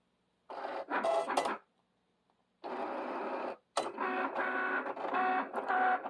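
A Cricut cutting machine cuts a T-shirt design, giving whirring motor bursts of sliding carriage movement with short gaps between passes, close and moderately quiet.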